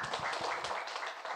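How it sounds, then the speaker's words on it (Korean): An audience in a lecture hall gives a short round of applause after a presentation, a dense, continuous patter of many hands clapping at a moderate distance, fairly soft and steady throughout. "다시 한번 박수 좀 부탁드릴게요"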